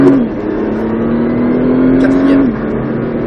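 A Nissan Skyline GT-R accelerating hard on the Nogaro circuit, heard from inside: a loud, steady engine drone climbs in pitch, then drops sharply at a gear change near the end.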